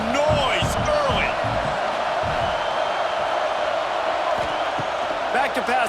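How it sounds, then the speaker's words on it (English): Stadium crowd noise from EA Sports College Football 26 roars as a continuous wash of cheering and shouting, with whoops and calls rising above it, while a commentator's voice talks over the top. "This crowd bringing the energy and noise early."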